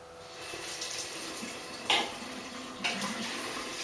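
Tap water running into a sink while someone rinses their face after a shave, a steady close splashing stream with two brief louder splashes.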